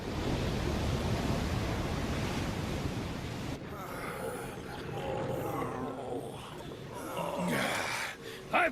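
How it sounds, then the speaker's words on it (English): Ocean waves roar at sea around a ship in an animated storm scene, a loud, dense wash of surf that eases after a few seconds while voices and shouting carry over the churning water. "I've faced bigger waves than that and lived."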